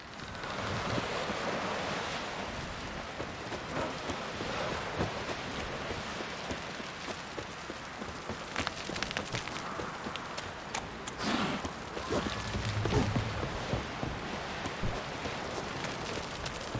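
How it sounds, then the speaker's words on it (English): Rain falls steadily in The Witcher 3 as a dense, constant hiss that fills the scene, with occasional horse hoofbeats clopping underneath and no speech. "Raining again."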